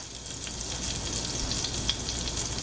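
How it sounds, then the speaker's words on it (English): Butter melting in a pan over medium heat, a steady close hiss of fine crackling sizzle with a few small pops, heard alone. "Just gonna wait for this butter to melt up"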